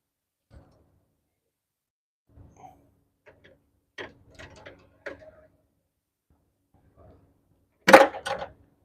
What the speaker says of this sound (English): No, my wrench.